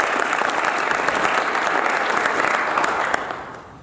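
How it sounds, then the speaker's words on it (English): Steady, dense applause from a breakfast audience at a coalition event, sustained and fairly loud throughout before starting to fade in the final moments. "And let's give everybody applause."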